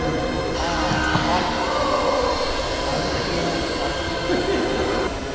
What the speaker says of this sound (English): I'm in the air. Flying nicely, half throttle's heaps.